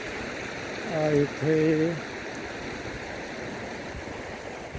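A small waterfall on agricultural land in Dapoli in the Konkan region pours steadily as a constant wash of water, while a voice speaks briefly over it near the start.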